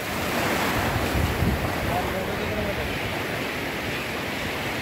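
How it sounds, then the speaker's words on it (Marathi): Sea waves at a Goa beach wash in as a continuous broad roar of surf, mixed with wind buffeting the microphone, steady and fairly loud throughout. "तर मित्रांनो बघू शकता माझ्या मागे समुद्र खूप मोठा आहे."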